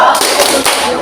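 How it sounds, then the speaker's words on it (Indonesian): A group in an Indonesian teachers' workshop does the tepuk jempol thumb-clap chant, a quick burst of close, crisp tapping claps lasting about a second with faint voices mixed in. "Tepuk jempol."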